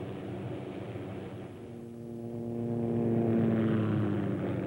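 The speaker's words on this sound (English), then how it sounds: "light observation helicopter in the Army's inventory. You will soon be flying this LOH." OH-6 light observation helicopter in flight, a steady droning engine and rotor hum at moderate distance that grows slightly louder over a few seconds.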